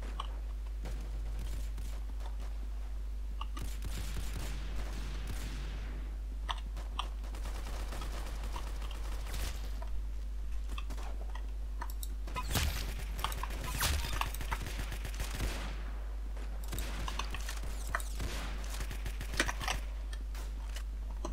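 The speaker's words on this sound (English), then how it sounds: "oh, that was a shotgun, I think. Oh, this is a shotgun, I knew that for sure." Shotgun blasts in the Roblox Arsenal video game, several sharp bursts spread over the clip against a steady low hum, no talk.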